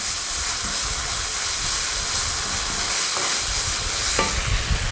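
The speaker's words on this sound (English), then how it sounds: "And I'll just fry off that for a second." Tomato ketchup fries in a stir-fry pan for Indonesian-style noodles, giving a steady loud hiss with a couple of faint scrapes of stirring.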